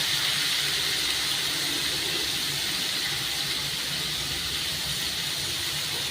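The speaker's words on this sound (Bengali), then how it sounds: "ভালো করে ভাজতে হবে ফুলকপিগুলো" Cauliflower florets frying in a pan for a Bengali cauliflower ghonto with rohu fish head give a steady, even sizzle and hiss that runs without pause.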